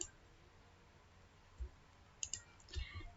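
A few sharp mouse clicks on an OK button while configuring a network address, subnet mask and gateway, the main click near the end among faint, scattered taps, with no talking.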